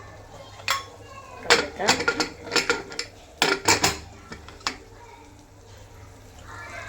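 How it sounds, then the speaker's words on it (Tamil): Metal lid set onto a large biryani pot in a home kitchen, with several clanking, clinking hits of metal on metal spread over a few seconds, close by, as a voice talks briefly. "நம்ம மூடி போட்டு மூட போகிறோங்க."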